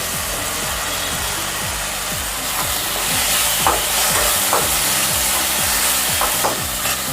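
Chopped tomatoes frying in brinjal masala in a pan, a constant close sizzle broken by repeated scraping strokes of a spoon stirring the mixture, with no voices.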